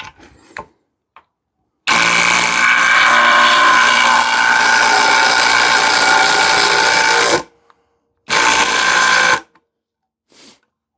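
A Parkside Performance 12V cordless impact driver sinking screws into shed-building wood, one long loud rattling hammering burst of about five and a half seconds, then a shorter burst after a pause, close up with no talking.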